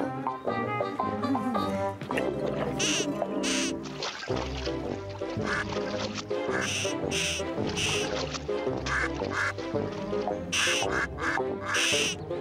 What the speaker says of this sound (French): Des canards sauvages! Regardez! Des canards sauvages!